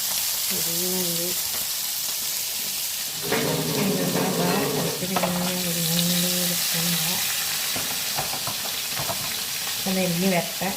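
Fish pieces frying in coconut oil, a loud close sizzle and crackle with spoon scrapes, while a voice hums or talks over it in stretches.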